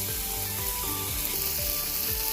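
Tomatoes cook in a hot pan with Kashmiri red chili, giving a continuous close sizzling hiss with faint stirring clicks running underneath throughout.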